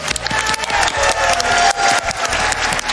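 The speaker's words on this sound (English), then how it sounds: "Let's give QTT another round of applause" A live audience at the AGDQ 2020 speedrun event gives loud, sustained applause and cheering that fills the whole stretch after a Mega Man Zero 100% run.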